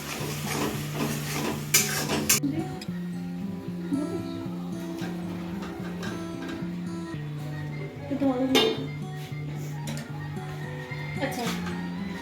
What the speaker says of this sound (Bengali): ভালো করে যাতে মশলার তেলটা ছাড়ে ততক্ষণ নেড়ে যাবো, ভালো করে নাড়তে হবে।